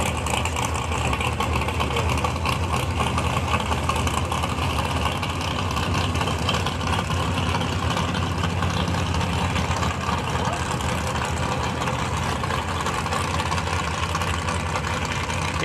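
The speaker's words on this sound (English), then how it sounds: "Tractor's moving for track prep." A tractor engine runs on a drag strip during track preparation at a drag racing test session, a continuous heavy low rumble at steady loudness, idling and droning without breaks.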